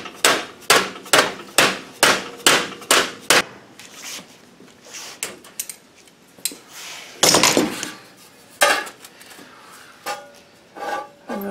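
A hammer strikes thin sheet metal to bend a battery tray for a 1968 Cadillac: a quick, even run of about ten sharp metallic blows, then scattered, irregular taps and knocks, close up with no talk.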